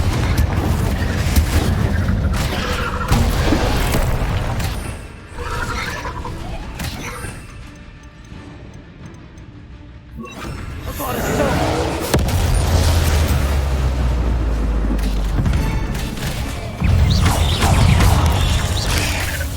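Confringo spell blasts in the Hogwarts Legacy video game: loud, dense booming explosions and crashing impacts in repeated bursts, with a quieter lull midway before the blasts build up again.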